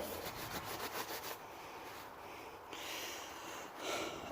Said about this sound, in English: you take and scrub it real good, and that'll kind of get the rest of that